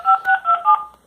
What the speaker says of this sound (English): so let me dial that cell phone